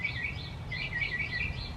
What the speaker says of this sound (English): the birds are saying hi too